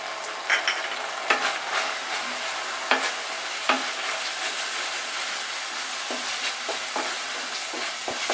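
Spices with turmeric, chili and cumin powder are stirred in a sizzling pan for Bengali aloo dum, with repeated clacking scrapes of a spatula over a continuous frying hiss.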